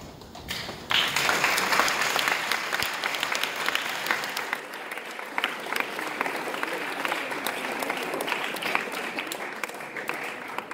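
Sustained audience applause at a boys' semi-final Shakespeare competition results session, dense and steady clapping filling nearly eleven seconds after a brief quieter start, with faint murmurs underneath.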